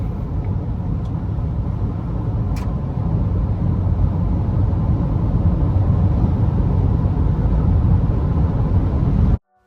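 Continuous deep drone of a 2025 Ford Ranger Wildtrak V6 engine with road rumble from inside the cab, swelling slightly louder partway through and holding steady before cutting off abruptly.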